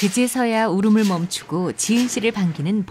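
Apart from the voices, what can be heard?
No distinct noise like a dog, phone or traffic.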